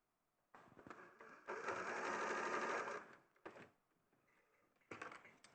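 A sewing machine stitches fabric ears into a seam, with a close, steady mechanical whirr that starts, runs for about two seconds, stops, then returns in short bursts.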